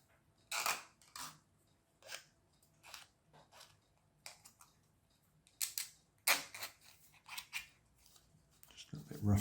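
Scissors snip the rough edges off a 3D printed plastic piece from a Woodcraft Construction Kit L001 violin, making a series of crisp, close cuts spaced irregularly, with quiet talk in between.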